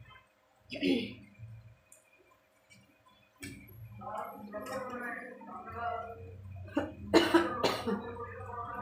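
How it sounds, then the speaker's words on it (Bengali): A person coughs in a home kitchen while cooking, a sharp close cough near the start, then further hoarse coughs and throat sounds spread over the rest, with a couple of strong bursts near the end amid quiet background noise. "কাশি হচ্ছে খুব খুব কাশি হচ্ছে"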